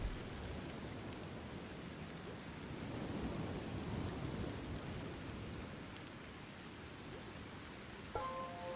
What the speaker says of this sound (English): the sound of the gentle rain is quite soothing